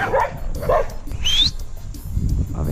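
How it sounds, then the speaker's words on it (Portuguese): A dog barks a couple of times nearby, followed by a high whine or yip and some rustling and low rumbling. "Cachorro!"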